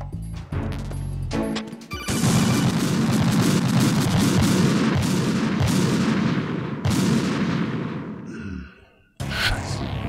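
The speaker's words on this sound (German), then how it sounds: "Ist das eine Bombe?" A bomb goes off in Metal Gear Solid 2: Sons of Liberty, a loud sustained rumbling blast that starts abruptly, roars for several seconds, fades out and then cuts back in.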